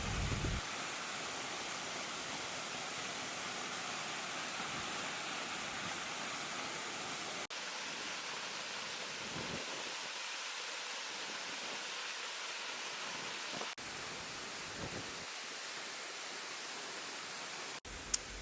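A waterfall in Ghana roars with a continuous broadband rush of falling water that stays steady and fairly loud, broken only by a couple of brief cuts.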